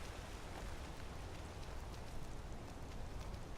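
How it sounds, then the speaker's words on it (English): Steady, even rain falls in the Skyrim video game, a soft continuous hiss that holds level and fairly quiet throughout with no voices over it. "It's so grey and rainy"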